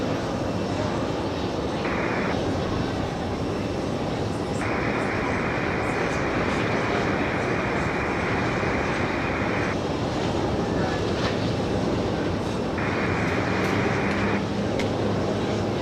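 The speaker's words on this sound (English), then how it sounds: "Big 767-400 about to touch down here on" A Boeing 767-400 coming in to land on runway 31 left at JFK, inbound from Nice, gives a loud, steady broadband jet roar that stays constant throughout, with a few brief tonal bands rising above it.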